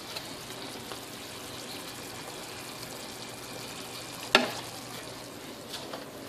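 Basmati rice frying in olive oil in a pot, a steady soft sizzle and hiss with one brief louder clatter partway through, close and continuous with no voices.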